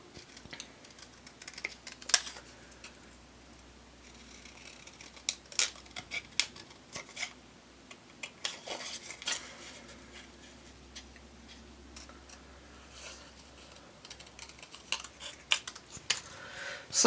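Scissors fussy cutting small paper pieces by hand: scattered soft snips and crisp clicks with irregular pauses under a quiet room hum, no voices.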